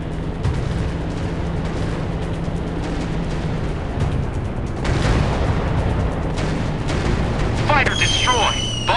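Bombs exploding in a WW2 warplanes dogfight game, a steady roar of engine and battle noise with heavier booming bursts midway, under clipped voice radio chatter.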